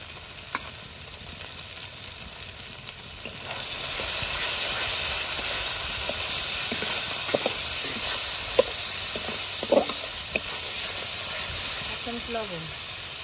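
Garlic, ginger and green chili paste fries with cumin-coriander powder for a doi katla fish curry; a hissing sizzle swells louder a few seconds in, with sporadic stirring clicks.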